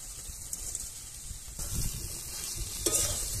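Fried okra and potato stirred into cooked spiced masala in a pan, a low sizzle that swells midway as the spoon works through, with a brief scrape near the end, no voices.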